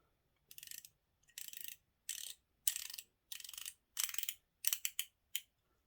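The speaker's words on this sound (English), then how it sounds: "So it is a 60 click bezel." Bezel on a Monster homage dive watch turned through its 60-click ratchet, heard as eight short, close bursts of crisp clicking separated by brief pauses.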